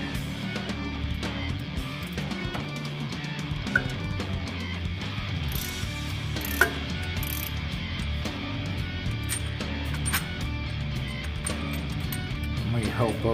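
A bolt is loosened with a ratchet at the bottom of a Cutlass water pump during an electric pump conversion, giving light mechanical clicks and tool rattles inside a dense, steady background of noise.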